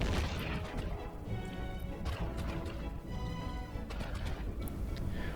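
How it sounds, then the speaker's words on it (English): Artillery cannons fire in the space game EVE Online, with repeated heavy booms and crashing impacts layered over a dense background of game noise. "Artillery cannons used to sound much better."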